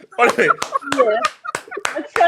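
A small group clapping hands in loud, uneven bursts close to the mic, with laughter and talk mixed in between the claps.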